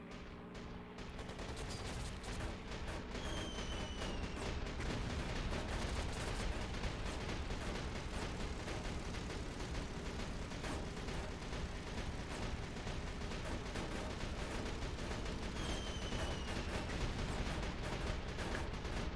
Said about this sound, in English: Even swerving, the AA still keeps hitting until it runs out of range.